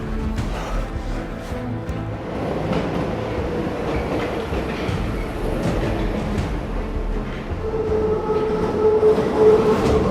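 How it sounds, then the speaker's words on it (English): A Paris Metro train rumbles through a tunnel junction, a loud continuous roar with rattling wheels that builds toward the end as a steady tonal squeal rises over it. "Trains pass through here all the time"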